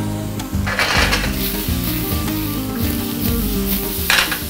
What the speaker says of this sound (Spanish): les vas a ir dando la vuelta, que se vayan cocinando por todas las caras, dorándose un poquito.